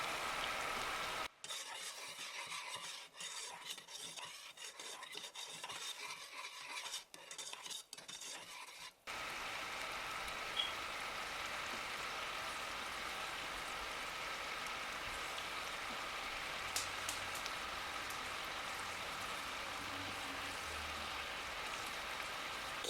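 A sugar wax mixture bubbling in a saucepan on the stove, making a soft continuous fizzing and crackling hiss that runs steadily throughout, close and fairly quiet, with no talk over it.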